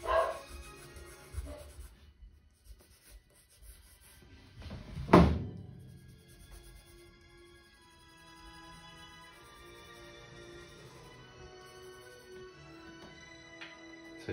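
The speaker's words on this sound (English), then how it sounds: "You can hear my dog outside," A dog barking outside, a muffled distant bark or two amid quiet room noise with a sharp thump midway.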